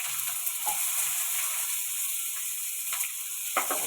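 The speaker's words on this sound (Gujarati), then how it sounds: "ડુંગળી થોડીક સાંતળે પછી આપણે ટમેટા ને એવું નાખશું" Onions frying in oil with curry leaves and asafoetida for a Gujarati tempered rice dish, giving a steady close hiss of sizzling with a few scraping stirs and clicks near the end, no talking.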